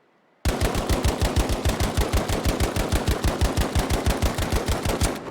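Rapid semi-auto gunfire in a video game bursts out after a brief silence, a steady loud string of roughly forty evenly spaced shots close up, with no voices.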